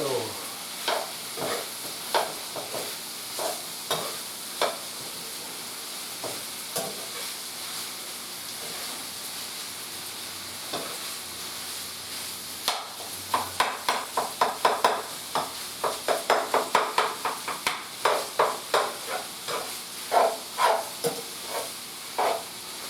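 An onion sizzles in a hot pan while a utensil scrapes and stirs it, steady frying hiss under repeated stirring knocks that grow busier and louder toward the end.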